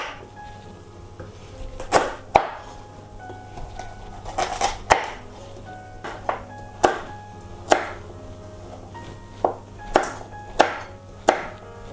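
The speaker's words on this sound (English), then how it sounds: "And then cut it into cubes." A knife chops raw pumpkin into cubes on a cutting board, a dozen or so sharp, irregular thwacks with short pauses between them, close and clear over a faint steady hum.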